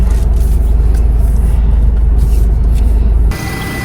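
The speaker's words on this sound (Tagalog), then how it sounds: "maniobra muna po ni Bossing tong sasakyan." A vehicle maneuvering at a rice mill gives a loud, steady low engine rumble close by, then the sound drops abruptly near the end as the engine cuts or moves off; no one speaks.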